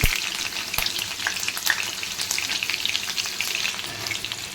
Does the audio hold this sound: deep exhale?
no